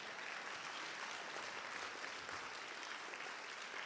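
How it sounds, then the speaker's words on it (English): A church congregation claps hands in praise during a Black History service, a dense, steady wall of applause that holds at full strength from start to finish with no voices rising above it. "Give the Lord a hand clap of praise."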